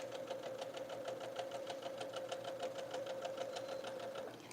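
A sewing machine fitted with a 1/4 inch foot stitches half square triangle quilt pieces for a Barbed Chevron block, giving a steady, fast, evenly pulsing hum that runs close and continuous without talk.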